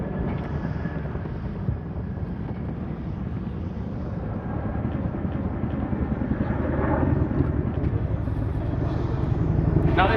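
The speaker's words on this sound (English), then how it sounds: "Now this aircraft is a Chinook Mk6 Alpha, one of the oldest ones we have at the moment in the fleet." A Boeing CH-47 Chinook Mk6A helicopter flies at an air show, a steady low rotor thump and turbine rumble that grows louder toward the end, without talk.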